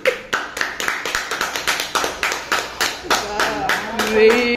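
A small group clapping in a steady burst of rapid hand claps, fairly close, with background voices and some tonal sound rising near the end, at a lively Raksha Bandhan family gathering.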